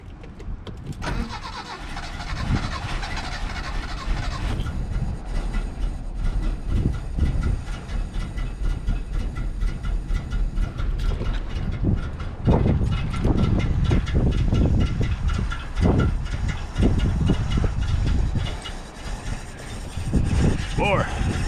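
A 1969 Datsun 521 engine cold starts, cranking and catching into a rough, uneven idle with bursts of revving. Someone talks over the running engine.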